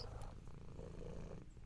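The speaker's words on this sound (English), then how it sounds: "Bask in the purrs of a kitty cat." A pet cat purrs steadily and close by, a low rumbling rhythm that runs throughout with no other sounds.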